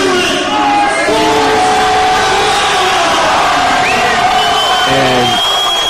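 A crowd at a title fight cheers and whoops loudly and continuously, with shouts rising above the roar while a commentator talks over it.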